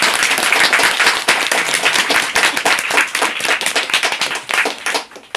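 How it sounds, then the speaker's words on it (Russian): Audience in a bookshop bursting into applause, dense rapid clapping from many hands, loud and sustained, with individual claps cutting through and a slight fade near the end. "Аплодисменти прошу."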